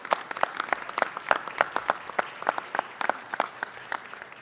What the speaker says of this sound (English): Mr. O'Farrell a round of applause.